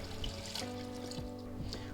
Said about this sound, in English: So let's go ahead and add our water to this.